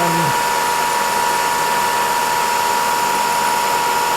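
A Bridgeport CNC milling machine cuts metal with a steady high whine and a broad, constant hiss, loud and close throughout, with no talk.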